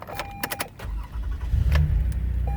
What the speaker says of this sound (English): I'm going to go ahead and turn the van on, let you listen to it run